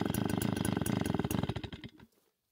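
A small engine stalls as its carburetor floods with excess gasoline after the valve is opened one and a half turns: a rapid, loud chugging putter that slows, sputters, and cuts out into silence near the two-second mark.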